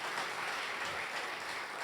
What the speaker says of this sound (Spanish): ¿Cuánto le damos un aplauso al Señor por esto realmente?